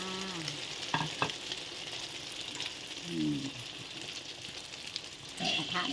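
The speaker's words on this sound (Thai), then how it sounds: "ให้น้ำมันเดือด ให้น้ำมันร้อนก่อนนะคะ แล้วก็เทไข่ลง นี่เทไข่ลงแล้ว" Beaten egg mixed with cha-om leaves fries in hot bubbling oil in a wok, giving a steady close sizzle with a few clinks. Faint background voices and sounds come and go.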